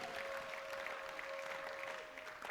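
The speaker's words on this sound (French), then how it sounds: "Applaudis très bien le Seigneur des Seigneurs." A church congregation applauds steadily through a midweek teaching service, a dense, continuous patter of many hands clapping at moderate level with a faint sustained tone underneath.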